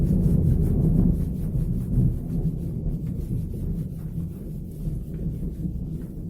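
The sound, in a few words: thunder rumbling during recording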